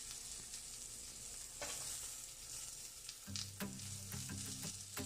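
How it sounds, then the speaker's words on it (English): Sliced carrots tipped into a hot frying pan set off a steady, close sizzle, with a few sharp clatters and a stronger burst of frying partway through; no voices. "I will now add the sliced carrots."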